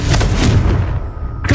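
Confringo fire spell cast in Hogwarts Legacy, a loud, dense burst of booming, crackling blasts that rolls on for over a second before a fresh impact flares at the end.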